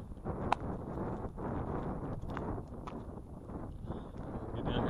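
Wind blows on a hilltop beside a big blue van, buffeting the microphone with a steady low rumble and a few gusty thumps, loud and close throughout.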